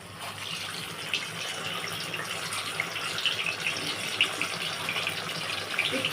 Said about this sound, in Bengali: এখানে বাটার আর সাদা তেল দেওয়া আছে আমার। এইখানে আমি 4টে ডিম আছে, 4টে ডিমকে একটু ভেজে নেব।